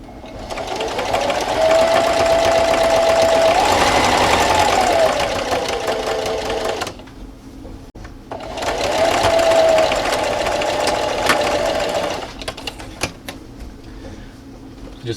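A sewing machine topstitches a fabric dust mask with a small seam allowance, running in two loud, steady whirring bursts of rapid needle chatter. Each burst rises in pitch and then stops, with quiet handling sounds in the pause between them.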